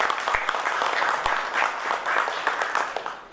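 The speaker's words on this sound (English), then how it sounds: "Can we have again one huge round of applause for my panelists?" A conference audience applauds panelists at a procurement leaders summit: sustained, dense clapping from a crowded hall, steady throughout with no talking over it.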